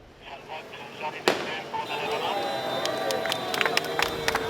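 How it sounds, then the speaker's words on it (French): Starting gun fired at the start of the Marseille-Cassis road race, a single sharp crack rising out of outdoor crowd noise, then cheering, shouts and scattered claps as runners set off. "le coup de feu retentit, c'est le départ de Marseille-Cassis"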